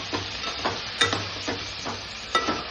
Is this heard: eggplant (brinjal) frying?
yes